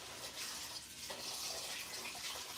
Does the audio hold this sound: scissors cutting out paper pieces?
no